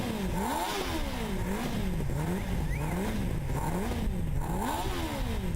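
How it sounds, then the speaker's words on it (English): A Formula SAE race car with a four-cylinder 600cc engine warms up, revving in steady repeated rises and falls, loud and close, with no voices over it. "Getting the engine warmed up."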